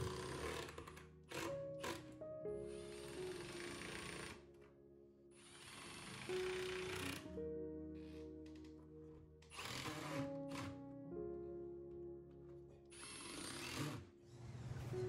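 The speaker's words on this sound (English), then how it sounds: "I then screwed it into the studs and then screwed the pocket holes into the sides of the cabinets" A drill drives screws through pocket holes into the sides of a base cabinet desk, several whirring bursts of varying length, close and fairly loud, with short gaps between screws.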